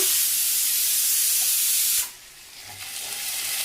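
Ground cumin and other spices sautéing in a hot pan: a loud, broad hiss that drops sharply partway through, then settles into a softer, steady sizzle, close up with no voices.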